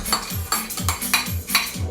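Strained jarred pimentos being stirred into a pimiento cheese mixture with a metal utensil, scraping and clinking against the bowl in a steady rhythm of about six strokes, close and clear.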